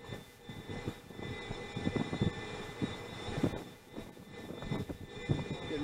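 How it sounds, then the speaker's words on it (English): Navy helicopter landing on a ship's flight deck in the Gulf of Oman, a steady rotor and turbine roar with pulsing chop, moderately distant over wind, with no talking. "Our helo is coming on board."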